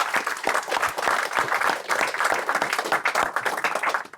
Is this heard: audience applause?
yes